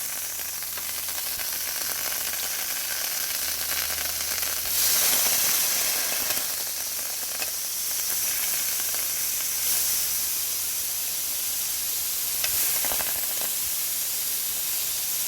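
Butter melting over low heat in a skillet gives a steady, soft sizzle and hiss that runs without pause. Two brief louder flares rise over the even frying noise, and nobody speaks.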